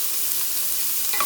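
Onion with salt sautéing in a pan for bottle gourd kootu, giving a brief, steady, hissing sizzle close by, with a light scrape near the end and no talk.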